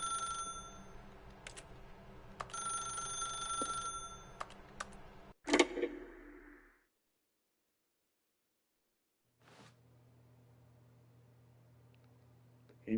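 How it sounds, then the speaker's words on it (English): A telephone rings in The Stanley Parable video game, several loud bursts of bell-like ringing over the first six seconds, then silence before a low steady room hum returns. "How do I pick up the phone? I don't know how to pick up the phone."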